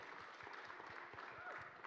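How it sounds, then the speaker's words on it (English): Audience applause for college employees and faculty at a World Teacher Day celebration, brief even clapping from a crowd. "I think they're deserving of a round of applause."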